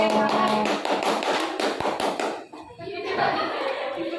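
A classroom group gives a short burst of hand clapping during a school coaching session, busy and fairly close at first, then a brief lull before scattered clapping and murmuring voices return.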